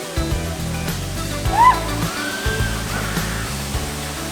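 A waterfall rushes as a steady, broad wash of falling water, with faint voices and a brief whistle-like tone over it.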